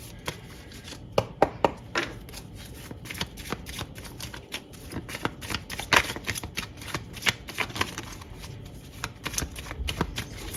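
Tarot cards are shuffled by hand, a rapid run of crisp riffling flutters and slaps in uneven bursts, close up and fairly clear against a quiet room.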